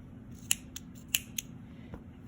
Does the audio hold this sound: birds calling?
no